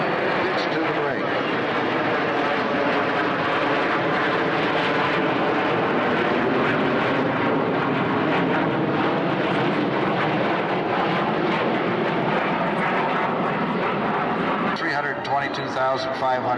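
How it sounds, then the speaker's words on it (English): F-16 fighter jets passing high overhead at an air show, a loud, broad engine roar that holds steady for many seconds while an announcer talks over it on a public address system. "It's high overhead, our F-16s."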